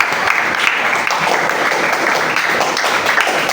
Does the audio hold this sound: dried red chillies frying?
no